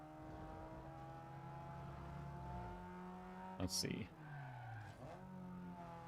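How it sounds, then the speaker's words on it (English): An Abarth car in a driving video game, its engine revving and shifting with a rally-style popping burst and tire skid midway through, while a voice briefly talks over it. "Yeah, the Abarth, I've heard, seems like it's a really fun one to drive over the top. Sounds like a rally car popping"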